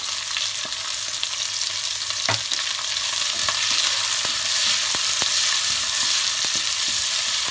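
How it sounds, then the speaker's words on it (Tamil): Onions sautéing in hot oil with green chillies and curry leaves for a Tamil crab fry, giving a steady close sizzle with scattered pops and spatters and no voices over it. "வெங்காயம் கொஞ்சம் நேரம் வதங்கட்டும்."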